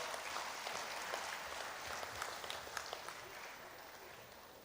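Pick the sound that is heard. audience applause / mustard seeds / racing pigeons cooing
audience applause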